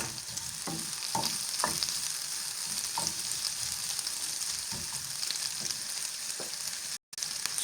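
Steady sizzling of ingredients for a pepper and walnut breakfast spread frying in a pan, a continuous crackle with occasional stirring clinks, close by, with a brief dropout near the end.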